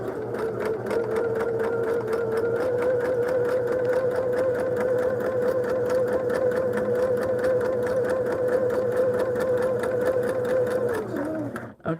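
Loud, steady hum of a sewing machine stitching quilt blocks for a lattice table topper, running continuously for about eleven seconds before stopping abruptly near the end.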